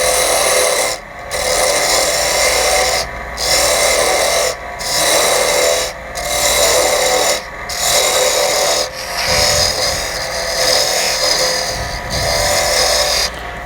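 A parting tool cutting a groove into wood spinning on a lathe, turning an ice cream scoop handle: a steady, close rasping scrape repeated in about six bursts separated by short pauses, with no talking.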